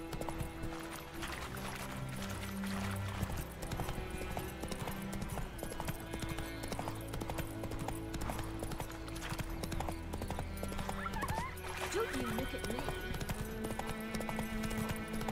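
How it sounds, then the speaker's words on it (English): Horse hooves clip-clop steadily through the whole stretch in The Witcher 3, a loud continuous gait with occasional neighs, layered over game music and ambience. "Evo ga moje kojnče."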